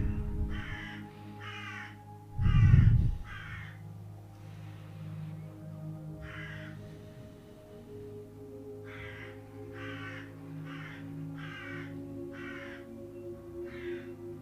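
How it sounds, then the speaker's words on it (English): Several harsh crow caws sound in spaced groups, with a louder low thump near the start, against a quiet outdoor background during a calm meditation setting. "Sounds like a bird's having a conversation with me."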